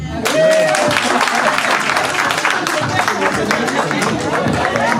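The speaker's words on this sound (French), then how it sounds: "Applaudissez." Loud applause from the guests at a 45th birthday celebration, dense clapping with crowd chatter and excited voices mixed throughout, close and continuous.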